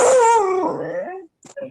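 Dogs whimper and whine in a long, loud falling cry, followed after a brief gap by a couple of short, sharp yips.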